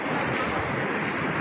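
Rough, churning sea surf crashes against the rocky Salalah coast during rock fishing, a loud, continuous roar of waves mixed with heavy wind buffeting the microphone, with no voices.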